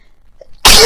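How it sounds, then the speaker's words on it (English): A single sudden sneeze bursts in after near-silence, loud, close and explosive, lasting a fraction of a second. "Excuse me, I just felt that sneeze come along."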